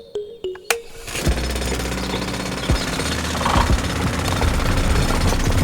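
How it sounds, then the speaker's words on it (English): A cartoon drilling machine hammers into rock after a few sharp opening knocks, then rattles on in a loud, steady pounding roar with occasional thuds. "First, Hulk controls the drilling machine, drills the rock."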